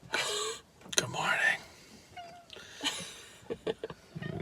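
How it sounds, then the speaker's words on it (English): A cat meows a few times inside a large camper van at dawn, mixed with human speech and light vehicle noises nearby. "Kitty says good morning."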